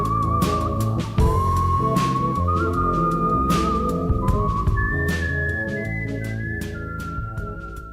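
A person whistles a jazz melody in clear sustained tones that glide between pitches, carried above a steady instrumental accompaniment.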